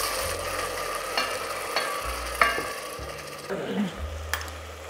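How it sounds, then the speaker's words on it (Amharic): Tomatoes fry and sizzle in a pan while a spoon stirs and scrapes them, sharp knocks at an uneven rhythm over a steady close sizzle, with no talking. "ቲማቲሙን ጨምርና አቁላለዋለሁ"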